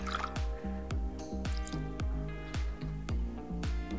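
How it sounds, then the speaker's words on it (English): Chalk paint being thinned with a little water and stirred with a mixing stick gives a rapid series of close, wet, squelching drips and plops in a steady rhythm. "I'm gonna basically add just a touch of water just to loosen the paint"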